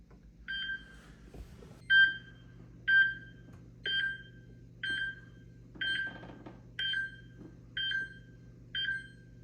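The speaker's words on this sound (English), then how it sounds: "There's that siren." A Simplisafe Gen 3 alarm system siren sounds as a string of about nine evenly spaced electronic beeps, clear and fairly loud, with a low hum beneath.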